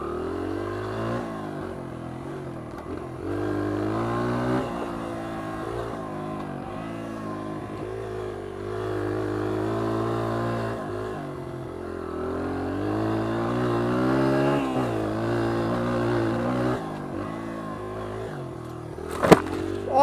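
Honda XR100 dirt bike, a 2001 model, ridden on a wooded circle track, its small single-cylinder engine revving up and down continuously with rhythmic throttle changes, close to the rider throughout.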